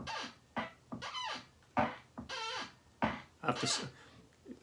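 A chair squeaks over and over, each creak a sharp rising or falling squeal, with short pauses between them. The sound is close but fairly quiet.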